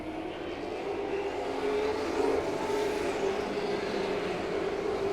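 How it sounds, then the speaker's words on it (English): Late model race car accelerating hard on a racetrack, a steady, loud engine roar that swells slightly midway and holds without a break for about five seconds. "Chris Hopkins jumps on the throttle."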